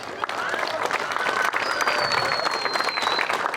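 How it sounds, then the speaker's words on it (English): Applause from a pickleball Tournament of Champions hall of fame dinner crowd honoring this year's finalists, a steady dense round of clapping with voices mixed in throughout. "One more round of applause for all of this year's finalists."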